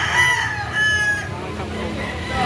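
A rooster crows loudly and close at a busy chicken market, its long drawn call rising over a cackle of other fowl, while a voice talks faintly in the background.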